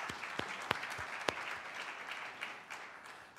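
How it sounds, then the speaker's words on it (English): Faint, distant applause from a crowd at a Jackie Robinson Day anniversary celebration, with a few sharper individual claps standing out near the start. "Let's give them a round of applause."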